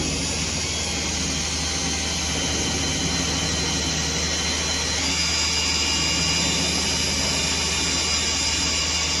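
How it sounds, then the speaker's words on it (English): An air compressor runs upstairs in a garage used for body fabrication, giving a steady, loud broadband drone that holds unbroken for the whole stretch, with no talk over it. "If you hear any background noise, it's just the compressor going upstairs"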